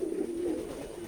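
Pigeons cooing at a pigeon breeding farm in a village in Keshabpur, Jessore, one low steady coo held close and clear over faint background noise.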